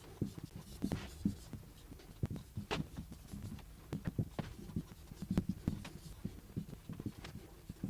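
Chalk or marker writing on a board during a French grammar lesson, a steady run of light taps and short scratchy strokes at moderate distance, with no talking.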